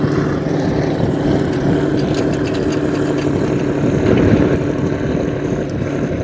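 A large tractor ploughing a field in Chechnya runs with a steady low diesel drone, loud and close, holding an even, unbroken engine note throughout.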